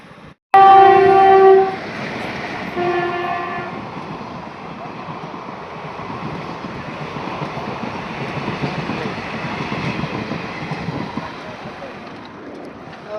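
A train passes close by. A loud horn blast opens the sound, followed by a sustained rumble and the clatter of wagons rolling past.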